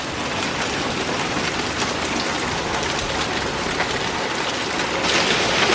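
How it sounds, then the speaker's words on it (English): Pea-sized to dime-sized hail falls outside a garage in a dense, steady hiss of countless small impacts, loud and unbroken, rising slightly toward the end. "Looks like we're getting about pea-sized to dime-sized hail right now."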